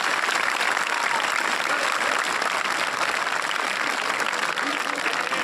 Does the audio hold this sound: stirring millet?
no